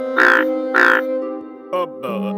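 Cartoon frogs croak in a string of loud, harmonic, buzzy calls, with two long croaks followed by shorter ones and no talk over them.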